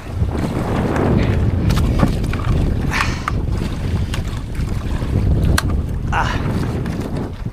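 Strong wind and rough sea waves buffet a small fishing boat at night, a steady loud roar of wind noise with water sloshing and occasional thumps against the hull.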